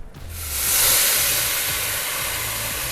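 Hot water and boiled frozen peas pour from a pot into a colander at a kitchen sink, a loud, steady hissing gush with a low clatter, rising quickly and running on without pause.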